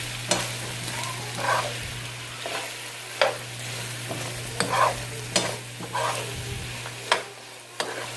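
Tofu being stirred and tossed with hoisin sauce in a hot pan, a soft sizzle under repeated scraping and stirring strokes that come in uneven bursts, close and alone with no talk.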